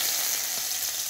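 Chopped garlic hits hot oil with black cumin seeds for an egg curry, giving a dense, bright, continuous sizzle, close and loud with nothing else over it.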